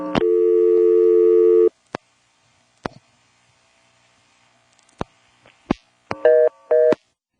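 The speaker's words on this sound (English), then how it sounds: "you usually drop to the default busy or reorder" A telephone busy or reorder tone on a 1977 NX1-E exchange in Vanceboro, NC after a line flash: one long steady tone, then sharp clicks, then short repeated tone bursts, clear and alone.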